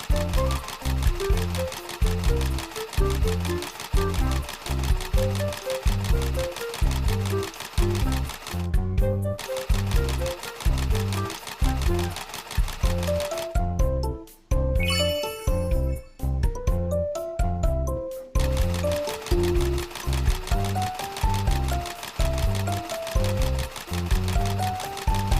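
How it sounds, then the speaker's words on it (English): Cartoon sewing sound effect with a fast, steady mechanical stitching rhythm, loud and continuous over a tinkling musical backing, pausing briefly twice. "Let's sew it together."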